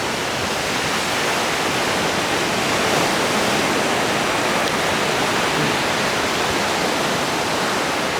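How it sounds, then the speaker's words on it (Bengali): Rough sea waves at Kuakata beach, Bangladesh, make a steady, loud broadband roar of surf that runs without break or pause for the whole stretch, with no voices. "সমুদ্রের এই উত্তাল ঢেউগুলো আর এই যে সাউন্ডটা, একদম ন্যাচারাল যে প্রাকৃতিক একটা সাউন্ড সমুদ্রের, সেইটা অনুভব করুন"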